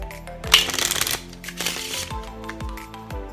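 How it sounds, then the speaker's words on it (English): Two quick bursts of riffle shuffling a deck of playing cards, a rapid fluttering patter, with bright plucked tones ringing between and after them. "And level 3 is the bridge shuffle, or riffle shuffle,"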